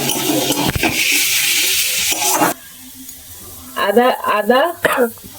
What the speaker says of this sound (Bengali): এবার আমি গ্যাসটাকে জোরে দেবো, দিয়ে এটাকে ভালো করে কষিয়ে নেবো।